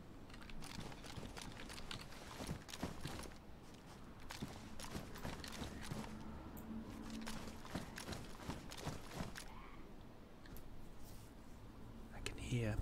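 Footsteps in the DayZ survival game, a faint, uneven run of soft steps on the ground under a low background bed, some louder scuffs, no talk.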